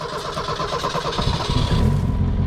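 A 1986 Ford Mustang Foxbody notchback coupe with a big cam fires up for the first time, cranking briefly before catching into a rough, loud idle that swells near the end.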